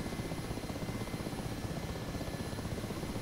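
A Mi-8 helicopter in the DCS flight simulator comes in to land, its rotor and turbines producing a steady, even drone that stays constant throughout with no voices.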